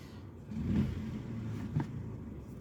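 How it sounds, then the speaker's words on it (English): A car engine running steadily with its check engine light on, a close mid-low rumble that swells slightly as it revs, with no voices over it. "the engine is working fine even with the check engine light"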